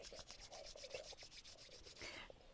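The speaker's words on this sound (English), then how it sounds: "please bring your hands together, rub them" Hands rubbing together during an outdoor yoga session, giving a faint, steady rhythmic swishing close by with no talking.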